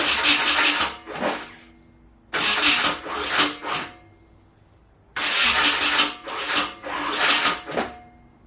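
A built KA24DE engine in an S14 240SX cranks without catching, heard as three separate bursts of rhythmic starter churning with short pulsing surges, each stopping after a second or two with silence between.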